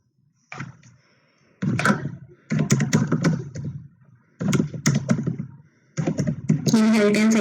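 Keyboard typing in bursts of rapid clicking, separated by short pauses, recorded close and fairly loud during a C++ programming lesson, with no talking.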